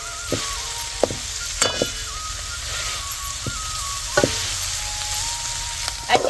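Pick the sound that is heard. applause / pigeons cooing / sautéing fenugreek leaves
sautéing fenugreek leaves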